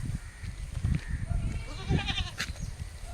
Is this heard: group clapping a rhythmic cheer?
no